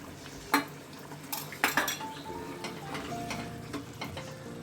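A spoon stirring pav bhaji in a pan, with sharp metal clinks and scrapes against the pan at irregular intervals over a faint sizzle.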